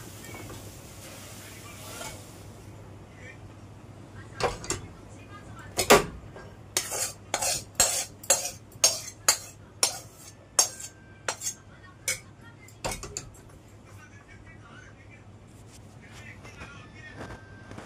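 Metal utensils clink and tap sharply against a plate as cooked spinach is scraped out of a pan, a quick series of close knocks and chinks that comes after a quiet start.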